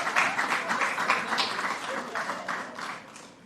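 Brief scattered applause for a government minister at a post-Cabinet press briefing, a small group clapping fairly steadily at moderate level with some murmur of voices underneath.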